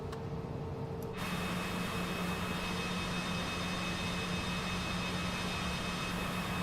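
Cessna CJ4 business jet engine starting in a flight simulator game, a steady loud whining turbine hum that rises a notch after about a second and then holds constant, with no talk over it.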